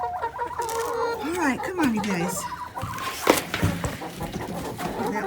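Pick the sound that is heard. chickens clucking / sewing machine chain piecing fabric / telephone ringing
chickens clucking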